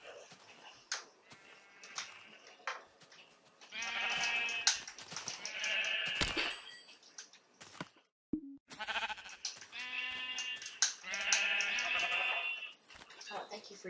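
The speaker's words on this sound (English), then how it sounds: "there's 3 sheep exactly. It's gonna be perfect." Sheep in the Minecraft video game bleat in long, wavering cries that come again and again, while a person talks over and between the calls.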